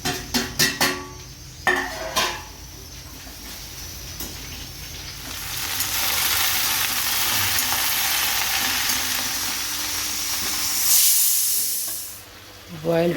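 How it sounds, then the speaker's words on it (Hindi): A sustained, loud steamy hiss from a pressure cooker boiling potatoes, steady for several seconds, with brief clatter at the start and a short pause near the end. "कुकर में आ रही हैं सीटियाँ,"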